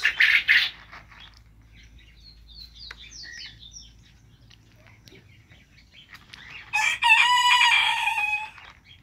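Bantam chickens crowing nearby, one loud crow at the start and another longer, louder crow near the end, with faint bird chirps and quiet rustling in between.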